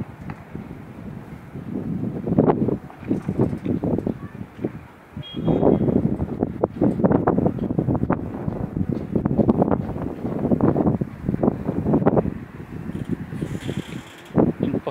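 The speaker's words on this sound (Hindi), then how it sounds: "बहुत तेज़ हवा है" Strong, cold mountain wind gusts in Naran Valley buffet the microphone in loud, rumbling bursts that rise and fall unevenly for the whole stretch.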